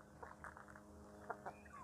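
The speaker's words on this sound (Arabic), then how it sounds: "خلينا بس نطمن على الكتاكيت هذه" Chickens and a rooster kept inside a pigeon house give a few faint, brief clucks and chirps, heard softly at a distance over a steady low background hum.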